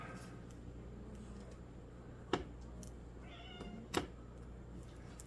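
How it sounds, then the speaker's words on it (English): A cat meows faintly once or twice in a quiet room, with a couple of sharp clicks and low background hum around it. "Yes, cat."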